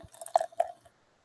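A short pour of Anti-Hero flagship beer: a couple of wet plopping glugs and a brief liquid splash, close and quick, stopping after under a second into silence.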